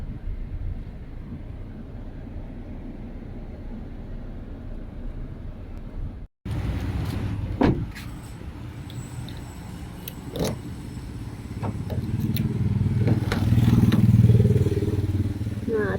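A car pulls out of a village on the way to a supermarket for fertilizer, its steady engine and road rumble continuing throughout, swelling louder toward the end, with occasional rattles and clicks inside the cabin.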